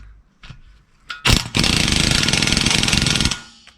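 A Craftsman power tool, likely an impact wrench, hammers at a stubborn bolt during a brake job on a Savoy with a VR5 swap, a loud close rattling burst lasting about two seconds after a few short clicks.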